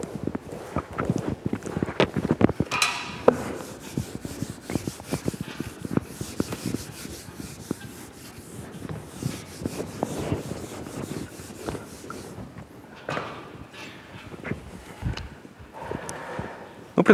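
Chalk tapping and scraping across a blackboard in a lecture hall, a run of quick irregular knocks and rubbing strokes, fairly close and steady with no talking over it.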